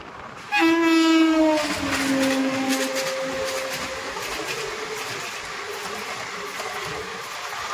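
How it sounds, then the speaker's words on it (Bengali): The Kaziranga Express pulls into Sainthia Junction station, sounding one long, loud horn blast before settling into a steady rolling rumble of the moving carriages. "আমাদের ট্রেন এখন এসে ঢুকছে সাঁইথিয়া জাংশন স্টেশনে।"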